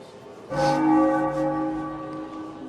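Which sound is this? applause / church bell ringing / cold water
church bell ringing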